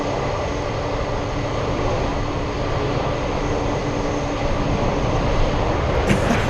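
A United Airlines jet arriving from Houston comes in at Anchorage airport on a gusty day, heard as a loud, steady, broadband roar that holds throughout with no talking.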